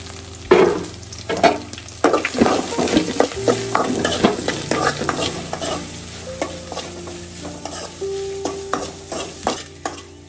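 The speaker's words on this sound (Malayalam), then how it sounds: "ഇനി ഇതെല്ലാം വഴണ്ട് വന്നതിന് ശേഷം നമുക്ക് അത്തിക്ക ഇട്ട് കൊടുക്കാം." Dried chillies, onion and green chillies sautéing in a pan, with a low sizzle under frequent clinking, scraping stirs of a utensil against the pan, close and moderately loud.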